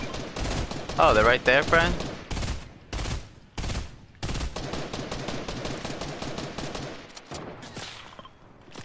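Bursts of gunfire and sharp sniper shots ring out in a Fortnite match, loud distinct cracks early on followed by a steadier stream of shooting, with a voice talking over the action.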